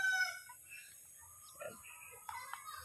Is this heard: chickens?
yes